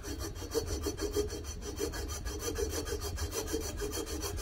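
Hand file working a Husqvarna 266 chainsaw cylinder port, a rapid, even rasping stroke repeated many times in a steady back-and-forth rhythm, close and fairly loud with no talk.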